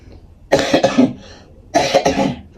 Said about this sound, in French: j'ai allumé un cône et c'est la fumée qui me fait un peu tousser